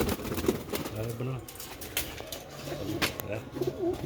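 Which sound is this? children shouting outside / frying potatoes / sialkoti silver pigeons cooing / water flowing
sialkoti silver pigeons cooing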